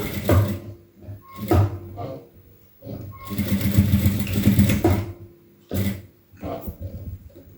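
A sewing machine stitches a folded blouse seam in short bursts of whirring between pauses, close by, with someone talking in Tamil over and between the runs.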